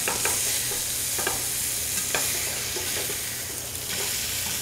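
Food sizzles steadily as it fries over high heat in a steel skillet, with a few brief stirring scrapes breaking through the continuous crackle.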